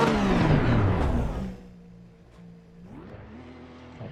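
A race car in the racing game Assetto Corsa Competizione revs its engine loudly, the pitch sweeping down as the noise fades to a low idle, then a further rev climbs back up.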